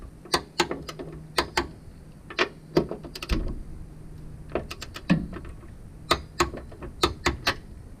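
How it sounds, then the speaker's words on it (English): A ratcheting wrench tightening the shock mount bolts on a 4th-gen Camaro during a lowering-spring and shock install clicks in quick irregular bursts of sharp, close pawl ticks, with no talk. "now I'm going to torque the shock mount bolts."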